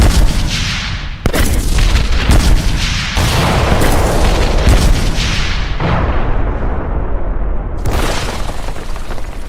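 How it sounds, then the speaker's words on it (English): Bombs exploding as an anime sound effect: a string of loud, booming blasts, one after another, with rumbling tails that fade before a final burst near the end. "Bombs, look out!"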